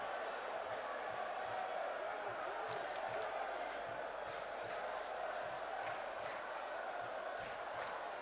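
A boxing crowd roars in a steady, broad wash of cheering at a fight between Emmanuel Mawuli and Stanley Nyantekye, sustained throughout with voices mixed in and a few sharper shouts rising above the din.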